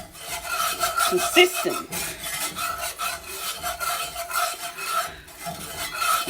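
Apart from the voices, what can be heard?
stirring a roux in a pan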